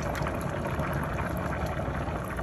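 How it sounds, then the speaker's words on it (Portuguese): Milk pours steadily into a pan that just fried chicken breast, a continuous liquid rush and faint bubbling held at an even level for a few seconds with no voices. "eu vou colocar leite"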